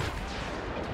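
A turret fires during a Star Wars Battlefront multiplayer match. It makes a short, dense burst of blasting noise that lasts about a second.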